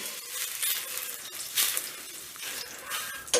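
Meat broth coming to a boil in a pan, a close bubbling sizzle with stirring clinks and periodic louder bursts, continuous and without voices.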